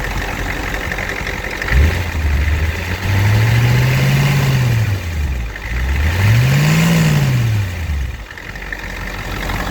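A car engine with a worn-out vacuum pump idles loudly up close, then revs twice in smooth rising and falling swells before settling back to a steady idle.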